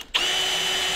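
A power drill bores steadily with cutting oil applied to the bit, starting after a short quiet moment and then holding a loud, continuous whine that stays close and alone to the end.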